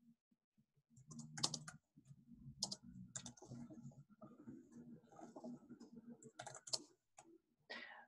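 Faint typing on a computer keyboard, with irregular bursts of soft key clicks and taps separated by short pauses, quiet and close.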